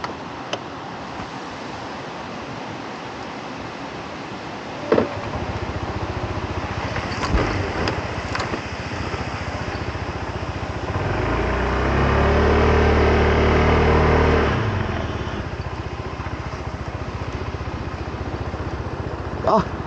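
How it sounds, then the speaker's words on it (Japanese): A 2024 Honda PCX scooter, wet from rain, starts with a sharp click and its small engine settles into a steady idle, swelling briefly louder partway through before easing back. "じゃあエンジンかけます"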